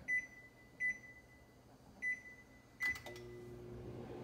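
A microwave oven beeps several times as it is set for about a minute to melt clarified butter for lobster, then its steady hum starts as it begins running.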